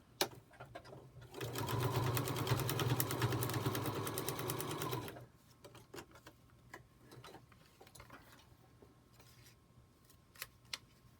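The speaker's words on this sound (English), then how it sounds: "So now I'm going to sew on that line." A domestic sewing machine stitches fabric along a marked line for a quilt block, a fast steady whirring run of about three seconds, close and loud, followed by quieter clicks and handling sounds.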